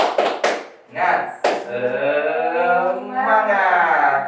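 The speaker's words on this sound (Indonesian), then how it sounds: "Seperti biasa, tepuk semangat." A group of adults at a classroom training session claps a few sharp, quick beats of an energizing rhythm, followed by voices chanting together loudly in unison.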